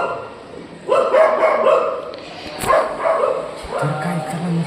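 Dogs barking outdoors at night, a few yapping barks at moderate distance rising and falling over several seconds with faint background noise.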